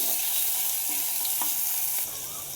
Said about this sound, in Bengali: একটু লাল লাল করে ভাজতে হবে।